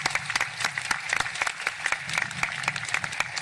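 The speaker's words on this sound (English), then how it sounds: "Let's give these students applause." An audience at the Carter High School class of 2020 graduation claps steadily, dense overlapping applause from a crowd filling the room.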